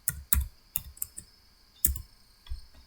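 Someone types on a computer keyboard, entering answer options into a Google Forms multiple-choice question, with scattered clicks in short irregular bursts and pauses, close and fairly quiet, with no voice.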